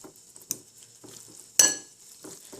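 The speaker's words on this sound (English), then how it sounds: "Now make sure you keep stirring" Ramen noodles being stirred in a pot produce a few sparse clinks and scrapes of utensil on metal, one sharp louder clank midway, over a quiet bubbling background.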